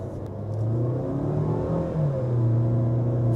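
A Tata Harrier or Safari engine revs up steadily toward 4,500 RPM, its pitch rising smoothly as it climbs, loud and close with no voices.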